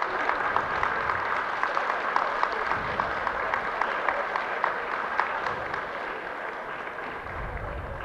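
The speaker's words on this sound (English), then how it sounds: "Nice round of applause from the fancy as they come around." Spectators at a Flushing spaniel dog show applauding as dogs circle the ring, a steady, fairly distant patter of many hands clapping that fades slightly toward the end.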